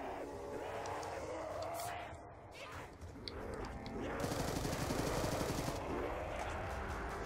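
Rapid automatic gunfire rattles in a Nuketown Zombies round, bursts overlapping with game effects and a player's voice talking over the action.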